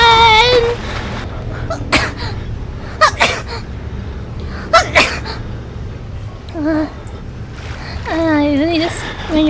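Sharp, loud sneezes burst out several times in quick succession during a scary horror game, mixed with gasps, frightened vocal cries and a low background drone.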